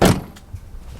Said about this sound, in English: shut my door here